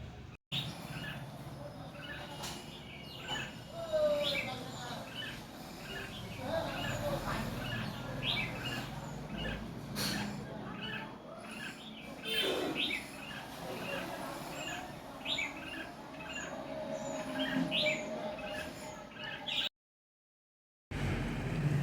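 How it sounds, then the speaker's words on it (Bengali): Small birds and chicks chirp repeatedly in quick, high twittering bursts in a garden, fairly close, over a quiet background with brief clatters and a short silent gap. "সবসময় পাখির আওয়াজ পাচ্ছি"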